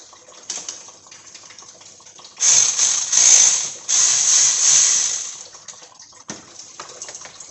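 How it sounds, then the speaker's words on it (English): Ratchet with a flex socket breaking loose a bolt on a 2006 Ford Mustang 4.0 during water pump replacement: low clicking at first, then two loud sustained runs of rapid ratcheting close by, followed by quieter clicks. "we got my little flex socket"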